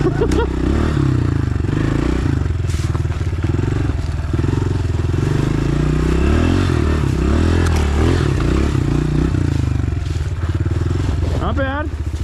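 A 2026 Honda CRF125F dirt bike climbs uphill off-road with a continuous, close engine drone and changing revs, while scrapes and clatter from the trail mix in and a rider talks over it.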